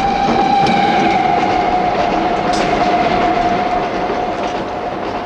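A passenger train travels on rails with a loud, steady rumble and a continuous tonal whine from the wheels, close and unbroken throughout, with no talk.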